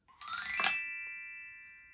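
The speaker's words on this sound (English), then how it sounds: "I have a glockenspiel here like a xylophone, but all made out of metal." Two bright glockenspiel notes struck in quick succession, ringing clearly and sustaining with a slow, shimmering decay.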